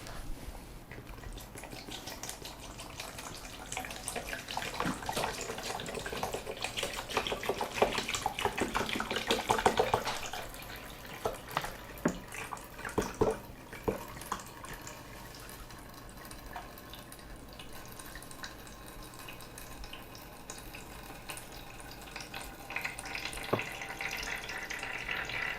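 Tap water poured into a Brita Marella filter jug, a steady close rushing splash that fills the first ten seconds, then settles into a quieter trickle with scattered drips and small knocks.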